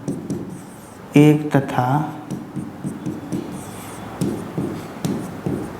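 Chalk scratches and taps in quick strokes as a maths equation is written on a classroom board, heard under a man's ongoing explanation.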